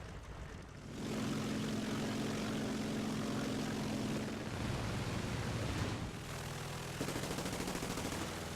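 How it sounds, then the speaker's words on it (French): A French propeller fighter plane in the War Thunder combat game roars past, its loud droning engine swelling and shifting pitch over several seconds, with bursts of distant gunfire mixed in. "Avion français au passage."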